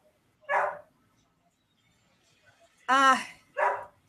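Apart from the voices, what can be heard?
dogs barking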